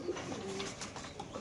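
At a pigeon market, birds coo quietly in an overlapping, muffled burble that stays faint and continuous, with no speech.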